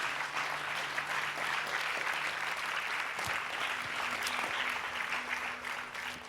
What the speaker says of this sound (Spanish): dale un aplauso fuerte a nuestro Señor Jesucristo